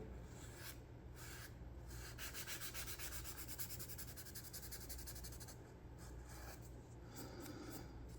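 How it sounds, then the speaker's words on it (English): Quiet, rhythmic rubbing strokes of a fine sanding stick on a wooden model boat, back and forth in a steady pattern, close up with no voices. "I'll finish it off with a fine sanding stick like this one here"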